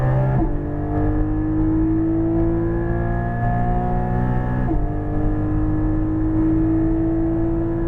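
A Porsche 718 Cayman GT4 engine at full throttle on a track, loud and close, its steady howl rising in pitch with two quick gear shifts breaking the climb.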